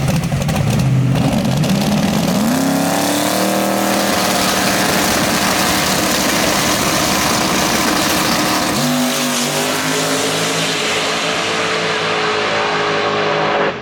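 A drag racing car on small tires makes a first-round shakedown pass at a Texas radial race meet: a loud, close engine roar that climbs steadily in pitch, drops briefly at a gear change, then pulls hard again to the end.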